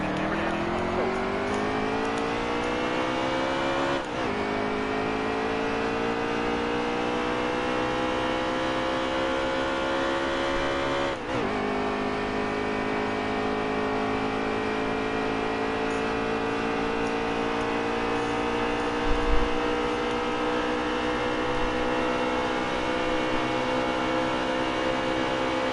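NASCAR Xfinity series race car engine in Nascar Heat 3 climbing steadily through the revs, with two sharp upshifts breaking the rising whine, loud and sustained for the full stretch with no speech.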